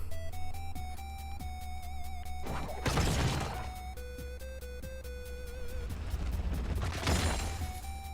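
Taliyah's Unraveled Earth ability in League of Legends: two loud rumbling, crashing bursts of earth and rock, about four seconds apart, over steady game music with no talking.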